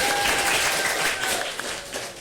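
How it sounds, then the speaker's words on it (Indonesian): An audience of students gives a round of applause at a school literacy event, with a dense, steady patter of many hands clapping close by, with no talk over it. "Beri tepuk tangan dong."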